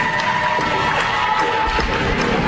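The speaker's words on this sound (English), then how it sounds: "Fans will appropriately cheer for an entertaining first period" Hockey fans cheer at the end of the first period of a college men's game between Colorado and Colorado State in Boulder, a steady crowd roar with an arena tone held throughout and faint speech mixed in.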